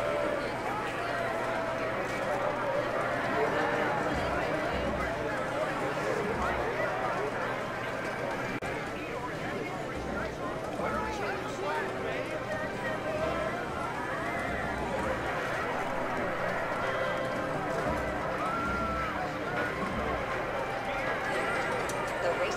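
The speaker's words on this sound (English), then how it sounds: "the horses are running at the inside track" Horses gallop around the inside track in GTA Online, a steady drumming of hooves under a busy, continuous crowd-like wash with speech-like chatter throughout.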